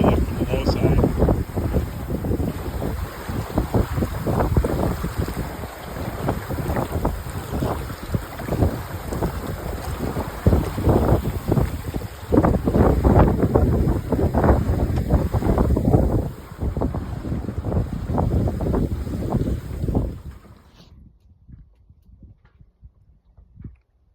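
A sailboat under way in steady wind, with loud rushing wind buffeting the microphone and water washing along the hull for about twenty seconds before it suddenly drops away to quiet.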